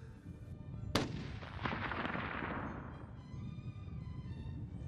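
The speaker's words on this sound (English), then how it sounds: "I'm gonna shoot him right by where his white patch is in his neck." A single rifle shot is fired at a deer during a Montana hunt, a sharp loud crack followed by a long rolling echo that fades over several seconds outdoors.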